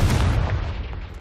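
A Confringo fire-blast spell from the game Hogwarts Legacy erupts as a loud, close boom with a deep rumbling body that fades slowly over about a second, with no talk over it.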